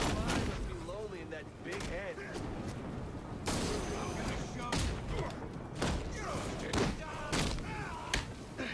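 Rapid gunfire bursts from the Red Hood character in a video game, repeated sharp thuds and cracks in clustered volleys across the clip, mixed with game effects and talk.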